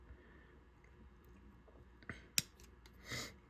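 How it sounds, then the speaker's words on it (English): Hobby nippers snip a part from a Gundam model kit runner: quiet handling, then a soft click followed by one sharp, close snap and a brief rustle, no talk. "I'm pressing that against the model so I get a clean cut when I clip"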